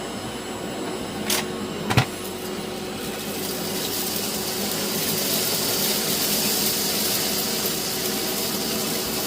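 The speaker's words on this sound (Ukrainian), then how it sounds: "І так, вмикаємо пилосмок і починаємо прибирання." A Samsung VC07M3110VB vacuum cleaner starts up after a couple of sharp clicks, then settles into a steady, loud, breathy whine and motor roar that holds evenly to the end, with no one talking.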